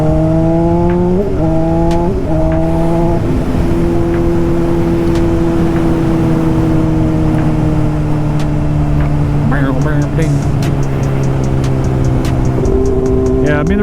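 A car driven hard on a damp road, a loud sustained engine drone shifting pitch through gear changes as it accelerates, heard from close inside over constant road roar.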